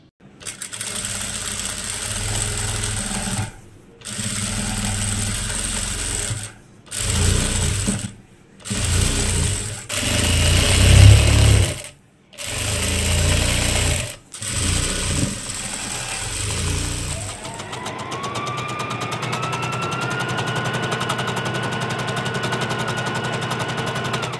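A tailor's sewing machine stitches trousers in a series of loud rapid bursts separated by short pauses, then settles into a steadier run with a rising whine toward the end.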